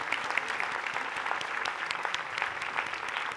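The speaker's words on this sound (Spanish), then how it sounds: "Un aplauso para ustedes porque están aquí con nosotros." Steady, dense applause from a large crowd at a book festival inauguration at the National Autonomous University of Mexico, many hands clapping continuously at an even level throughout.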